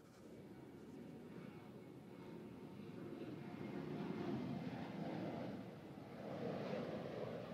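Low, steady roar of an ITA Airways commercial airliner taxiing in at Soekarno-Hatta airport, distant and continuous, swelling slightly midway, with wind noise and no clear talk.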